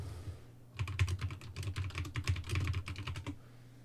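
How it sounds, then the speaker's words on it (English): Rapid clicky keystrokes on a computer keyboard rattle in a dense, uneven burst close by, with a quiet low hum underneath and no speech. "Clicky keyboard."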